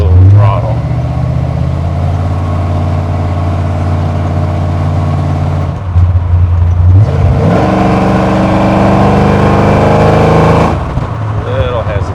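A classic Ford Ranger with a 347 stroker V8 idling and revving up close, a low throbbing engine note that swells into a strained rev near the middle and holds before dropping back to idle.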